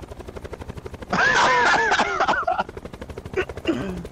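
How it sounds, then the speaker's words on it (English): Rapid, dense bursts of gunfire in the video game Blackout crackle loudly for a couple of seconds over a steady rotor-like drone near a helipad, followed by a few scattered shots. "Pretty sure I heard gunshot."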